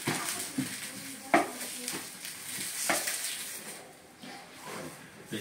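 Fish frying in a light spoonful of oil on a Gaip multi maker tawa: a steady, close hiss of sizzling with occasional clicks and scrapes of a utensil against the pan.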